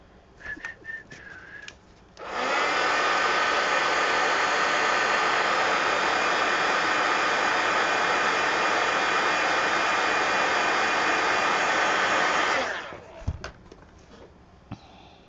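A dryer roars steadily for about ten seconds while drying a mixed media collage art card, a loud, constant whooshing blast with a sharp start and stop, bracketed by quieter room sounds.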